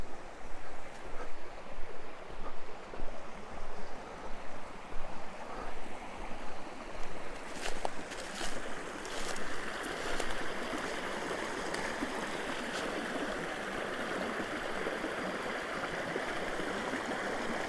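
Water babbling through a culvert in a forest, a continuous rushing trickle that starts with rhythmic pulses and settles into a steady, fairly close wash of flowing water, with no talk.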